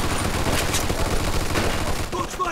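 Dense machine gun fire crackles in rapid bursts during a firefight in the video game Mafia II, loud and continuous through the short span, with a voice briefly audible in the mix.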